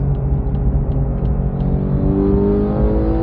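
A racing car engine accelerates hard out of the final corner, a loud, close, rising roar with climbing revs and a steady rumble underneath.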